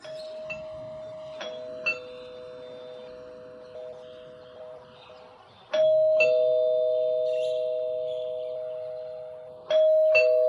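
A doorbell chiming repeatedly, two-tone rings with long sustained tones, a few presses spread over the stretch, fairly loud and close.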